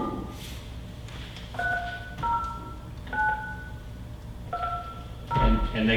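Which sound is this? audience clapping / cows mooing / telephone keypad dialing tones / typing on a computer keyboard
telephone keypad dialing tones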